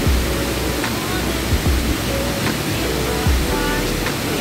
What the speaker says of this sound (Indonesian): kalian akan mendengar suara sungai di depan kita ini